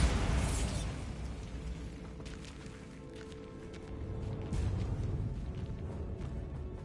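A Bombarda blasting spell in Hogwarts Legacy erupts at the start as a loud, rumbling burst that fades into a sustained low roar with a second swell later on.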